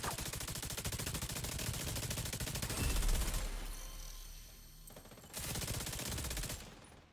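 Rapid automatic gunfire from a Division 2 match, loud and dense bursts of shots rattling continuously, with a brief lull midway before the firing resumes.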